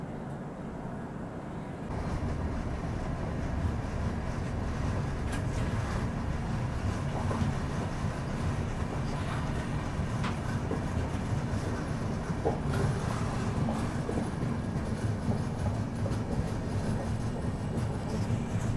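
Rayalaseema Express running on rails near Kadapa, a steady loud rumble of wheels and carriage noise that continues unbroken throughout, with no talking.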